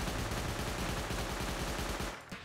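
Rapid automatic SMG fire with a fire-rate booster in the video game Rust, a dense continuous burst of loud shots that cuts off near the end, leaving a brief tail.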